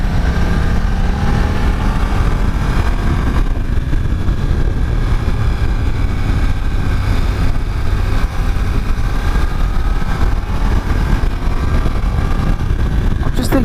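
A 2020 BMW F900XR motorcycle at road speed on fresh, unscrubbed tyres, with a steady engine drone and heavy wind rush running unbroken throughout at close range.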